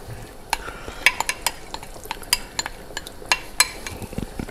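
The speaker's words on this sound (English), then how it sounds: "I'm going to take the remaining tomato sauce, add it in." Tomato sauce goes into a Portuguese fava bean stew with linguica as it returns to a boil, with a spoon scraping and clinking against the pot in irregular strokes over a low bubbling simmer.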